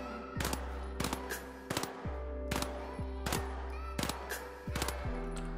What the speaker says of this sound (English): It's a fast firing but erratic machine pistol class firearm.